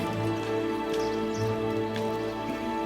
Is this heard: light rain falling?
yes